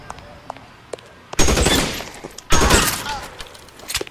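Two loud, close bursts of automatic gunfire in LA Noire, each lasting about a second, separated by a short pause over a quiet background with faint scattered knocks.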